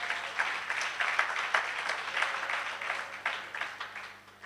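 A church congregation claps in praise of the Lord, a moderate, fairly steady burst of applause from a crowd heard at some distance.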